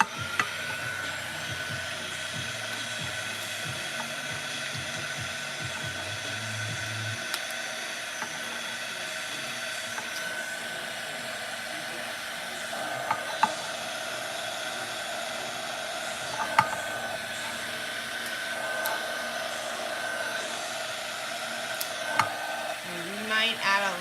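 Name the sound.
heat gun or dryer heating epoxy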